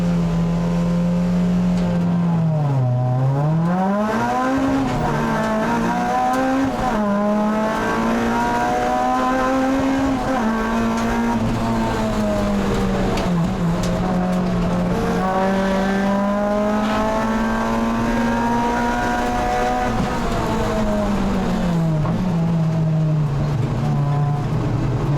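Honda race cars at Brands Hatch circuit pull out of Paddock Hill Bend and up Pilgrim's Rise toward Druids, a loud, sustained engine howl rising and falling in pitch as the cars accelerate and shift gears.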